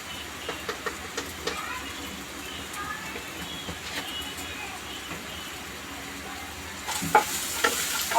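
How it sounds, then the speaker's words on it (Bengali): Egg curry spices with salt and turmeric stir-fry in a pan: a close, steady sizzle with scraping stirring strokes, growing louder and busier near the end. "অনবরত চালাতে হবে"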